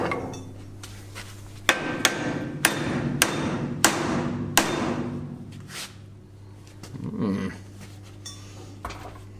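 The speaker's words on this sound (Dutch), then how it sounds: "dan kunnen we met de stalen hamer slaan." Several sharp metallic steel-hammer strikes on a hinge pivot ring out at irregular intervals, fairly close, with a low steady hum and a soft panting sound in the background.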